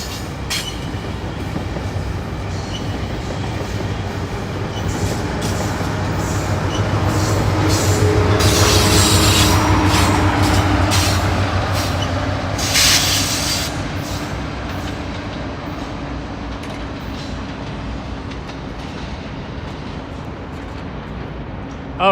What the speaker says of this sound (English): There's a GO train.